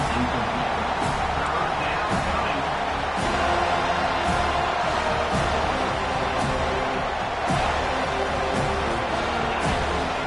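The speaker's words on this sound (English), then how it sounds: "Decibels rising as the crowd gets behind this defense on 3rd down." Steady roar from a college football stadium crowd on third down, a dense continuous wall of noise with scattered shouts and a few sharp claps or bangs.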